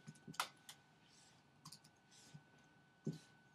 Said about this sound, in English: I type so slow.